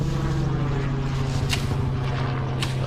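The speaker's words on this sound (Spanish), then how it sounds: "Ahí va el helicóptero." A helicopter passing overhead sends down a steady, low, throbbing drone that holds at a fairly even level for a few seconds, joined by a couple of brief noisy bursts.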